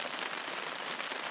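Steady rain falls in a northern Alberta forest, a dense, even hiss of drops hitting surfaces that fills the whole short stretch without a break.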